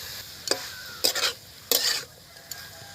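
Chicken patty filling fries in a pan with garlic and ginger paste while a utensil scrapes and stirs it in several short bursts. A soft sizzle continues underneath, close and fairly quiet.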